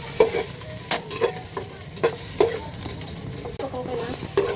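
Ginger stir-fried in a home kitchen pan, a steady sizzle under repeated scraping strokes of a spatula at roughly one-second intervals, close and moderately loud.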